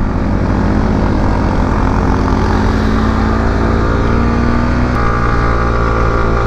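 A motorcycle engine labours uphill in second gear on a mountain road, a loud continuous droning roar with a steady pitch that shifts slightly near the end, heard alone and close.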